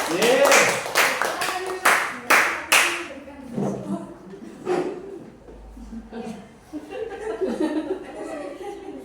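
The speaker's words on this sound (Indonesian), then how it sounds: "Tepuk tangan." Children in a coding and artificial intelligence class clap hands together in a few loud, rhythmic bursts, followed by chuckles, laughter and scattered talking in the room.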